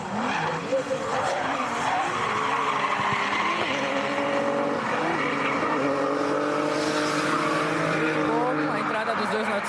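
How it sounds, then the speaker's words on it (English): Drift race cars skid with tire squeal and revving engines at a Super Drift Brasil event at Mega Space in 2019, a loud sustained wail running throughout under a commentator's talk. "And the cars have left the start line."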